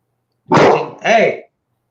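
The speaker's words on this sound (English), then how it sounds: "Here's my dog through the speaker." A dog barks twice in quick succession, played back through a loudspeaker, so the short, fairly loud yaps sound thin and boxy.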